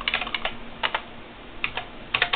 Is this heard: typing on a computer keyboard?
yes